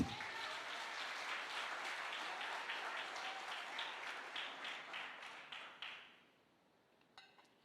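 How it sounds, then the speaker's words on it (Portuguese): A church congregation claps together in a long, dense burst of applause that fades out after several seconds, with a few faint clinks at the end. "Então aplauda Jesus aí."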